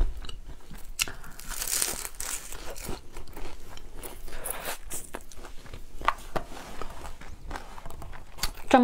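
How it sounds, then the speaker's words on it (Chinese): Close crunchy bites and chewing of an egg tart, flaky pastry crackling in irregular bursts over several seconds, with no talking. "这个蛋挞，我跟你们讲，我先吃一个"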